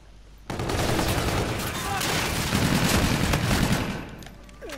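Call of Duty Infinite Warfare gameplay with sustained automatic gunfire, dense rattling bursts lasting several seconds at steady loudness, then tapering off.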